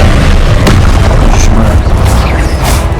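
Confringo spell blast in Hogwarts Legacy during a boss fight, a loud, dense booming rumble of explosions filling the whole stretch, with sharp bursts on top.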